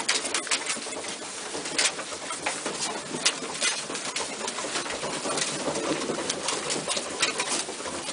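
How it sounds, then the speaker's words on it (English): Pigeons gather on top of a loft, soft cooing and rustling wing flutters mingling with brief pattering sounds, steady and moderately close with no talk. "There's pigeons on top of the loft again now."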